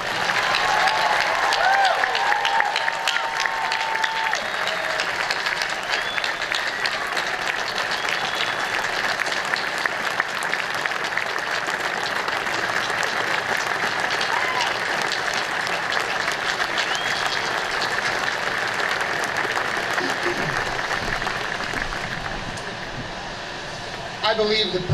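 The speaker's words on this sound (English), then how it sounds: "Please, may I have a quick round of applause for your extraordinary USS Montgomery crew." A crowd at the USS Montgomery (LCS 8) commissioning ceremony gives sustained applause for the ship's crew. The broad, steady clapping continues for about twenty seconds and tapers off near the end.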